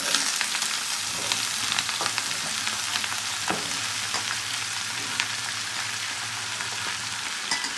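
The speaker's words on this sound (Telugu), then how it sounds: "వాష్ చేసేసుకున్న తర్వాత వంకాయలు దీంట్లో వేసుకుందాం" Washed brinjal pieces fry in a hot tempering in a pan, giving a steady, dense sizzle like light rain, with occasional faint crackles and stirring over a low background hum, and no talk.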